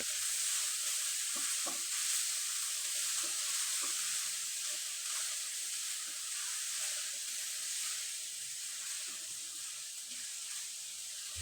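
Coconut and jaggery filling stirred in a pan, a steady close sizzle and hiss with scattered scraping strokes of the spoon running throughout, no voices.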